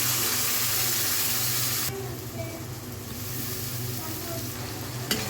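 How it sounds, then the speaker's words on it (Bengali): Spice paste of turmeric, salt, cumin, coriander and dried chilli powders frying in a small amount of oil for a Pangas fish head and Malabar spinach dish, a steady close sizzle that softens partway through, with a brief clatter near the end. "মশলাটা খুব ভালো মতন কষিয়ে নেব"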